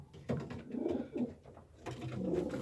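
A pigeon gives low, throaty coos at close range, a few rolling bursts separated by brief pauses, in an otherwise quiet indoor space.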